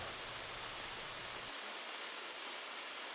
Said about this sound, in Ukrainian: Не менш мальовничий і Женецький водоспад, який вабить до себе численних туристів навіть такої дощової днини.